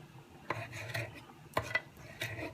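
A knife cubing raw chicken on a board for a pasta dish with olive oil, broccoli and chickpeas, giving a few faint, separate cutting clicks and scrapes at an uneven pace.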